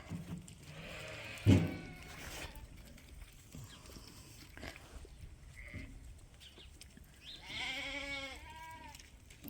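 Lambs bleating on a sheep farm at morning chore time, a few harmonic bleats with one loud near call early and a louder run of bleats near the end over low background noise.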